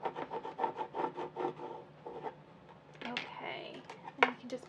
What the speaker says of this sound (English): And then scrape down.